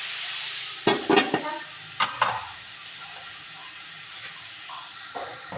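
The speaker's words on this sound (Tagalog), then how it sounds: "At haloin lang natin." Vegetables with coconut milk and jackfruit stirred in a pan over steady sizzling hiss, a few close scraping strokes of the spoon early on, then mostly continuous bubbling fry.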